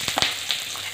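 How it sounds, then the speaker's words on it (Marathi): Chopped onion frying in oil in a pan for shev bhaji, a steady close sizzle with a few sharp crackles and pops early on, no talking. "कांद्याला पण आपल्याला छान लालसर रंगापर्यंत तळून घ्यायचा आहे"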